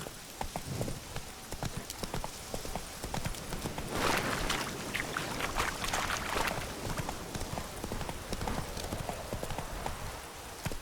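Horse hooves clip-clopping at a steady galloping rhythm as the horse Roach runs in The Witcher 3 video game, close and continuous, with a light wash of rain-like noise behind.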